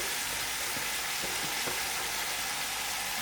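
Venison meat and its marinade sizzle loudly in a hot pan at the start of a hot, dry venison curry. The frying hiss is steady, close and continuous, with no voices.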